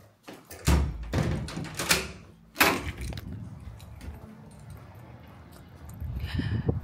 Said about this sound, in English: And I'll hear when you try to open the door.